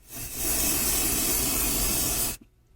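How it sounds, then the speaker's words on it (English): Spray adhesive is sprayed from an aerosol can onto hooped embroidery stabilizer, a steady, close hiss of about two seconds that cuts off abruptly. "you just take your spray adhesive"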